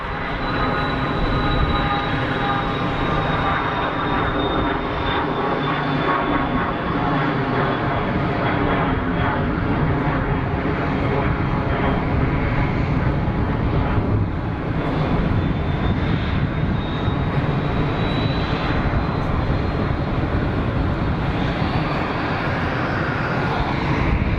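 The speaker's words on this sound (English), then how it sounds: "Intersect departure for the citation." A Cessna Citation business jet takes off on an intersection departure at Geneva Airport, a loud, sustained engine roar with a high whine that holds for the whole stretch, close by and steady.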